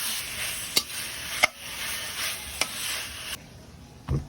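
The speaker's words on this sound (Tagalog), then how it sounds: "saka natin ilagay ang ating 3 fourths na baka na hiniwa natin na medyo pa cube lang natin maigi ang ating baka" Cubed beef sautéing in a pan with caramelized onions and tomatoes for beef pochero, a soft, steady sizzle broken by several sharp clicks of a utensil stirring against the pan, quieter near the end.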